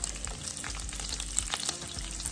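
Bacon and onions fry together in a pan, giving a close, constant crackling sizzle with small pops and no voices.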